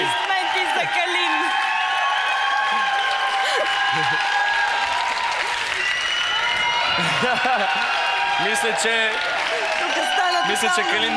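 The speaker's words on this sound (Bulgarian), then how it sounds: "Аплодисменти за Калин." A studio audience applauds and cheers for a contestant named Kalin on a live TV music show, with dense steady clapping mixed with whoops and crowd voices that swell and fade across the whole stretch.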